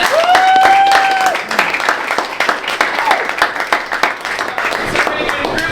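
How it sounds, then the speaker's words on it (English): Crowd applause for a college panel's panelists runs throughout, with individual claps standing out close by and a whistle-like tone near the start, the clapping continuing at a steady level. "Let's give a round of applause for our panelists."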